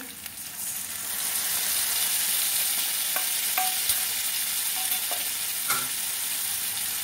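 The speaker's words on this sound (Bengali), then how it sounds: "এবারে মশলা গোলাটা দিয়ে দিচ্ছি।" Spice paste hitting a hot pan for jackfruit kofta curry, a sudden strong sizzle that settles into steady frying hiss with a few light scrapes and clinks of stirring, close and alone.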